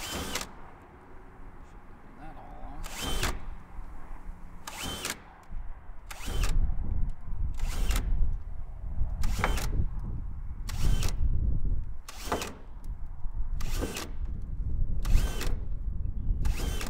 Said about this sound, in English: I'll drill some pilot holes